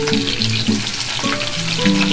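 Onions sizzle and crackle in hot oil, close and loud, with stirring clatter on top, steady throughout.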